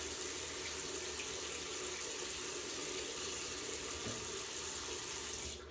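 Tap water running into a bathroom sink while a face is wetted, a steady close hiss and splash that continues unbroken before cutting off at the end.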